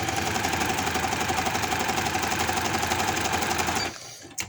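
A sewing machine stitches the folded edge of a palazzo pant waistband, a loud, close, steady motor whir with rapid needle rhythm running continuously before stopping abruptly near the end.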